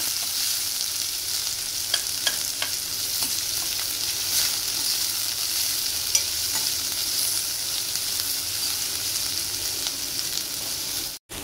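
Sliced onion sizzles steadily in a spoonful of hot oil for shev bhaji, a broad continuous frying hiss with occasional soft stirring clicks, close and unbroken throughout with no talking.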